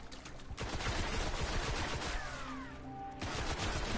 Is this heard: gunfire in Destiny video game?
yes